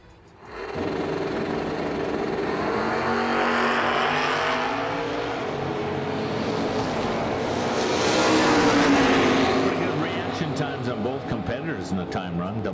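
Camaro drag cars racing down the strip at a drag racing event, a sustained loud engine roar that swells and fades, heard from a distance with an announcer's voice running over it.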